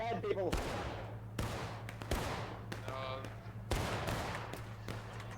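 Gunfire in a Civil War battle video game, several sharp rifle shots cracking out at irregular intervals over a steady low background hum, with a few scattered distant pops between them.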